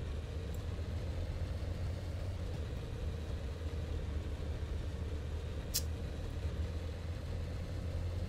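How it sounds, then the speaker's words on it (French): A T-34 tank engine idles in the Sprocket video game, a steady low faint rumble throughout with a brief sharp click near the end. "Voilà donc c'est mon petit modèle de T-34."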